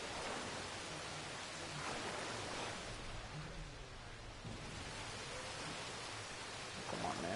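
Steady rain falls in the Red Dead Redemption 2 game world, a dense, even hiss of drops on surfaces that holds fairly constant throughout.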